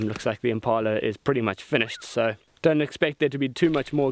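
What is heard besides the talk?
None of the usual background noises is heard.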